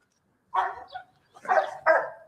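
A dog barks three times in a row, loud and close, with short gaps between the barks, outdoors near a group of puppies.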